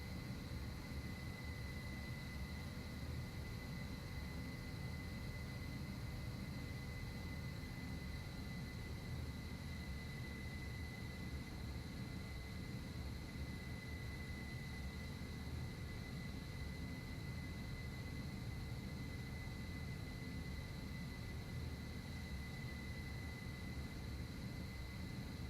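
An Mi-8 helicopter flies inbound in a military video game, heard as a constant droning engine and rotor hum with steady whining tones. The level stays even throughout, with no nearby voices.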